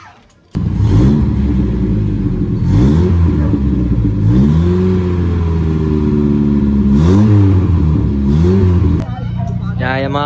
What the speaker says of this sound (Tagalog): Ibabalik natin dito yung scab pipe natin na maingay.